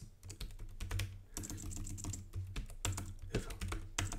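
Fingers type on a computer keyboard while coding, in fast uneven bursts of close, crisp key clicks broken by short pauses.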